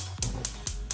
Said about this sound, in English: Start by putting the gas on.